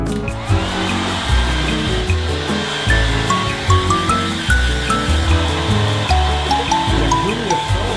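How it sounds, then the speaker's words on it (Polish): A hair dryer blows steadily and loudly while drying a dog, its airflow roar constant over a low rumbling background for the whole stretch, with no voices. "Bajka uwielbia suszarkę."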